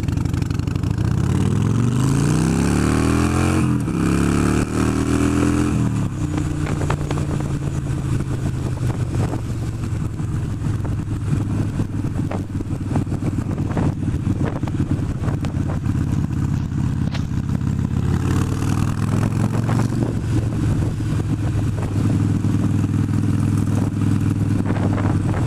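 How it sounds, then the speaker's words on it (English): A Harley motorcycle on a cold day's ride gives a loud, steady engine drone, with a rising rev at the start and shifts in pitch as the speed changes. Wind noise runs throughout and nobody talks. "This is my Harley. This is my baby. I love this bike."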